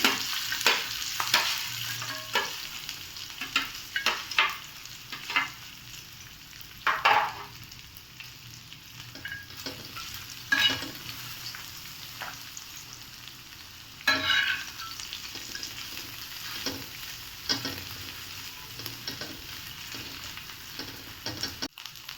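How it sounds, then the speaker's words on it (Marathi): Dried bombil (Bombay duck) fish roasts in a pan with a soft, steady sizzle, broken by intermittent spatula scrapes and stirring clatter at uneven intervals, close up and moderately loud, with no speech. "आता त्यावरच आपल्याला बोंबील पण भाजून घ्यायचे छान"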